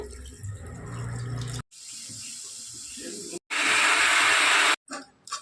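Water pours and splashes into a pressure cooker holding mutton nalli in a few separate bursts, hissing and gushing loudly, with short gaps between pours.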